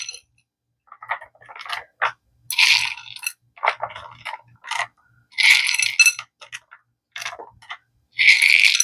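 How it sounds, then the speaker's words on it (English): Chocolate chips poured and scattered over almond Rocca treats, sharp clattering bursts of small hard pieces landing in irregular handfuls, close and fairly loud with silent gaps between pours. "Now we're going to add chocolate chips on top."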